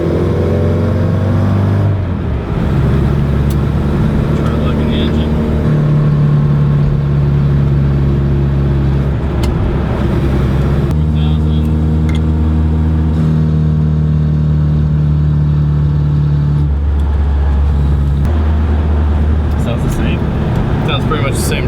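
A Mini car engine pulling up through the gears into fourth, with a loud, sustained drone that rises in pitch in several long stretches and drops at each shift, heard from inside the car with talk over it.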